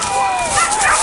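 A dog yips and whimpers up close, with continuous high wavering tones filling the short moment.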